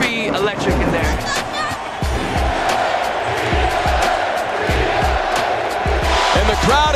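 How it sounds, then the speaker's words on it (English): A loud basketball arena crowd in Oklahoma City roars and cheers continuously, with whoops, shouts and bursts of noise across the full length, alongside faint thumps like a ball or slams. "And the crowd is louder than it's ever been in this building."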